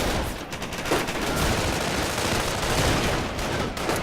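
Rifle and machine gun fire in Company of Heroes, a dense, continuous crackle of overlapping shots and bursts filling the whole stretch at steady loudness, with no talking.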